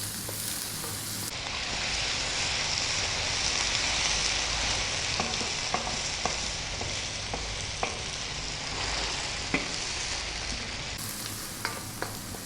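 Chettinad chicken pepper fry sizzles steadily in a pan over high heat, a dense continuous hiss with occasional sharp pops and clicks as it is stirred, close and fairly loud with no talking.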